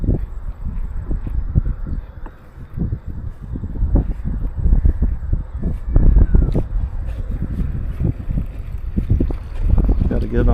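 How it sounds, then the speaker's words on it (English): Gusty wind buffets the microphone outdoors on a fishing boat, a steady low rumble with rough surges that runs through the whole stretch. "The wind is not cooperating yet."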